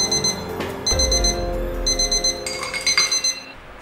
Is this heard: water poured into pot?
no